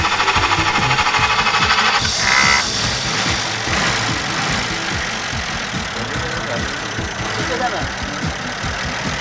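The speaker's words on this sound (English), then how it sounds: "Would you mind starting the car just so that I can hear it?" Engine of a vintage Erskine car, converted from a 6-volt to a 12-volt battery, starts and settles into a steady, rapidly pulsing idle close by, with voices talking over it.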